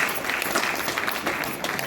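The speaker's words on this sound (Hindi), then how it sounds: "रिएक्शन प्लेटफॉर्म के लिए जोरदार ताली।" Steady applause from an audience at a youth training session, a dense, even patter of clapping lasting about two seconds without a break.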